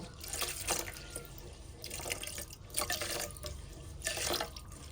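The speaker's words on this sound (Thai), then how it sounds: "ใส่น้ำสำหรับหุง เราจะใส่น้ำให้เหมือนกับหุงข้าวปกติเลยนะคะ" Water poured into a rice cooker pot over seasoned sticky rice for making bak chang, heard as close splashing and trickling in several bursts, with no talking.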